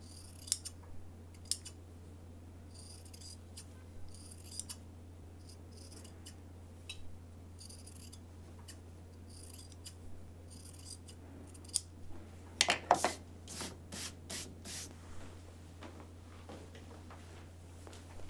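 Scissors trim excess fabric during sewing, giving sparse light snips through most of the stretch and then a quick cluster of crisp cuts near the end over a low steady hum.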